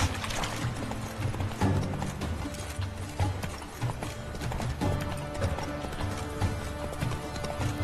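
Roach, the horse in The Witcher 3, gallops in a steady, rhythmic run of hoofbeats that continues throughout, with game ambience and occasional mechanical clicks underneath.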